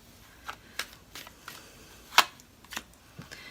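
Tarot cards are handled and shuffled, making a series of short, separate flicks and snaps spaced about half a second apart, close and fairly quiet.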